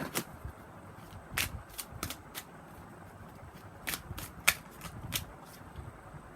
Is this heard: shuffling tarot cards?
yes